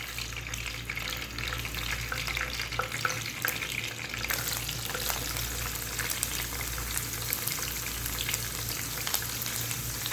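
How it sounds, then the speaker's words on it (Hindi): Onions frying in cooking oil for Punjabi-style kadhi pakora, a steady, close, even sizzle with crackling that runs without a break for the whole stretch, with no voices over it. "प्याज इसके अंदर मैंने डाल दी हैं। अब इसको अच्छे तरीके से मैं फ्राई करूँगी इसका कलर आने तक।"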